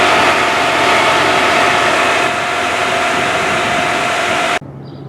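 A 2017 BMW 530i engine running at a steady idle, a constant loud hum with a faint tonal whine, cutting off abruptly near the end to leave quieter background noise.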